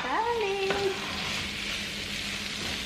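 Long beans and green eggplant stirred in a pot for a village-style vegetable lodeh, a steady broad sizzle throughout, with a short voice-like tone near the start and no talk over it.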